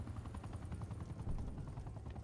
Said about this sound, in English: Hostile attack helicopter inbound.